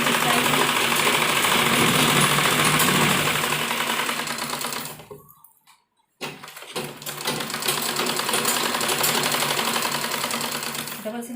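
Sewing machine running steadily to stitch a double seam on dupatta fabric for a child's dress, a continuous loud mechanical whir that stops briefly midway and then resumes.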